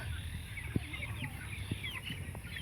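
Chickens on a farm cluck softly in the distance, a few scattered low clucks over a constant background hum.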